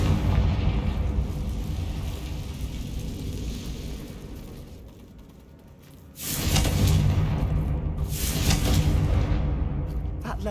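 In the Hogwarts Legacy video game, a Confringo blast spell goes off as a deep, rumbling explosion that swells, fades into a low rumble, then bursts again with a second heavy boom and roaring debris.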